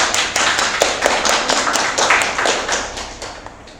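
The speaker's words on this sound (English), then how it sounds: "So if you could give a small round of applause and welcome." A small audience at a talk on drones and LIDAR gives a brief round of applause to welcome a speaker, a sparse, close run of distinct claps that thins out toward the end.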